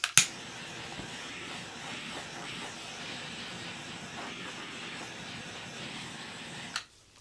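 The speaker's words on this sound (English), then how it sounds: "Just going to give it a torch just to see what it's going to do." A handheld torch flame plays across a painting as a steady, soft roar lasting several seconds, opened and closed by sharp clicks.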